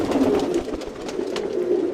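Nearby silver Lahori pigeon giving steady, low, rolling coos in a pigeon loft, with light scratchy background sounds and no talking.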